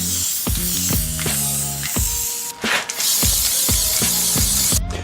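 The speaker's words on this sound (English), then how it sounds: "we'll put the green spray paint on top of that and then spray towards it" Green spray paint hisses from an aerosol can onto a cardboard stencil in a rapid series of short, close bursts, each one quickly cut off, with no talking.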